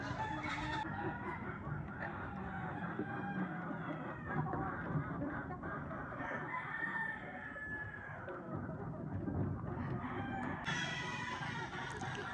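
White leghorn chickens on a farm, a flock clucking steadily with occasional crowing, close and continuous, pecking at feed.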